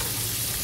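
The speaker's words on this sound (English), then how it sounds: "Oh, and then onions and peppers in." Onions and peppers fry in a pan with butter in a restaurant kitchen, giving a brief, dense, steady sizzle at close range with no voices.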